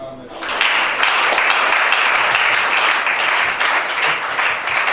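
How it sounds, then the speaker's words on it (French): An audience bursts into loud, sustained applause, a dense wash of clapping that starts abruptly and holds steady to the end. "Acclame chacun."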